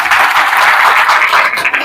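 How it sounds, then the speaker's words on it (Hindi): Seminar audience applause in a hall, a dense sustained wash of many hands clapping at steady loudness for about two seconds, trailing off slightly at the end. "सर ने एक बार जोरदार तालियां बजाएं सर के लिए"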